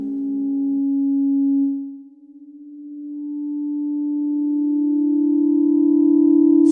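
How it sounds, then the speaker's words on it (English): An E-bow magnetic resonator sustains a string inside an opened piano, giving a steady, pure humming tone that dips briefly, then swells back and holds louder, with nothing else around it. "this here is the sound of the E-bow,"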